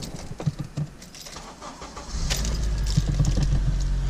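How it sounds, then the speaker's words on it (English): A 2003-2007 Honda Accord engine cranks and catches, settling into a steady idle rumble after some earlier clicks and rattles, heard close up with no talking. "All right, we're gonna start her up."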